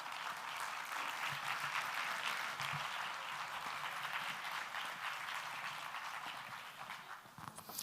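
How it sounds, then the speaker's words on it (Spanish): Audience applause at a round-table panel on building rehabilitation, welcoming the president of the Castile and León council of technical architects, a sustained wash of many hands clapping, moderately distant and even throughout, with no talking. "Un fuerte aplauso para ellos."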